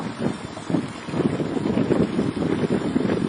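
Steady wind buffeting the microphone out on Ceizur Lake during a fishing trip, with low rumbling gusts and a faint wash of water around the boat, continuous and close.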